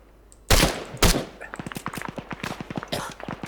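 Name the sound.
gunfire in the video game ArmA 3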